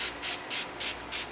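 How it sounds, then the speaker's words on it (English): Hot water sprayed onto layered handmade soap from a spray bottle, five evenly spaced hissing bursts in a steady rhythm, close and fairly loud with no talking. "by spraying with hot water"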